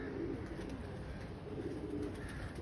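Soft, low cooing of pigeons, including an Aseel pigeon, repeated murmuring calls at a moderate distance over a faint steady background.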